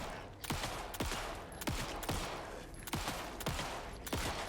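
Gunfire in the Alan Wake II video game: about five loud, evenly spaced shots, each with a sharp crack and a short ringing tail, repeating roughly once a second with no talking.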